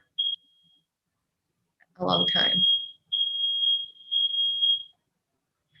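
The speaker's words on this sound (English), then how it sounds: "I've never heard that alarm before." A smoke alarm sounds in a room with high, piercing beeps: one short chirp, then a long steady tone that breaks into several sustained pulses, loud and close, with a brief stretch of talk in between.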